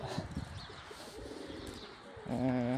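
Pigeons in a loft on a cold, rainy day: soft rustling and faint calls give way to a clear, low, throaty coo near the end, fairly close.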